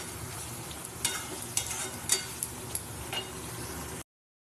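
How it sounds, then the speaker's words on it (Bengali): Potatoes and spices sautéed in oil, a low sizzle broken by several sharp spatula scrapes and clinks against the pan, close and moderately quiet, no talk. "ভালো করে আমি কষিয়ে নিই"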